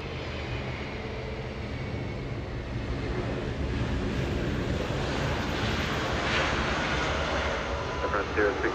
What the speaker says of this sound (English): Heavy arrival coming in at Delta 368, flying in from Honolulu.